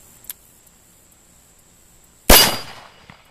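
A single close, sharp report from a Cimarron El Malo II .45 Colt revolver with a 3.5-inch barrel, firing a hand load, bursts out of near silence and rings off over about a second; a faint tick comes before it.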